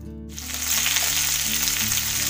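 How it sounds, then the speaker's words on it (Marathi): Okra roasting in a ghee-coated pan with a little oil, a loud steady sizzle that bursts in after a brief quiet start and continues under a low background hum. "सगळ्यात आधी ही जी भेंडी आहेत ना आपल्याला ह्याच्यामध्ये चांगली भाजून घ्यायची"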